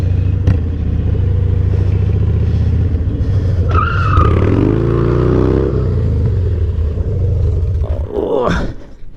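A Harley Dyna motorcycle drifts with its rear brake partly applied, engine roaring loud and close under a long tire skid and squeal that rises and then cuts off near the end.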